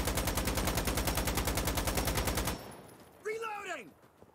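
Rapid, steady bursts of light machine gun fire from a bootleg LMG built as an RPK in the co-op shooter Insurgency: Sandstorm, loud and continuous for over two seconds, then cutting off into quieter room noise with a brief voice.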